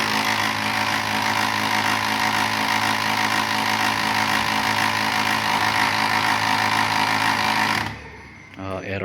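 A Kyocera TASKalfa 2020 copier with a paper jam fault runs with a loud, steady mechanical whirring and rattling for several seconds, then winds down abruptly.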